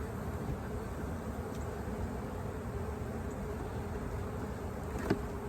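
Honeybees drone steadily inside a hive opened for a first spring inspection, its frames packed with honey; the dense, unbroken buzz holds at an even level throughout, with no voices.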